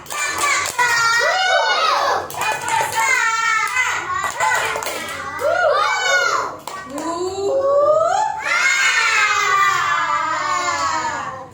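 Children at a school literacy event chant and clap together in a rhythmic spirit clap, loud and close, with bursts of sharp claps between shouted young voices.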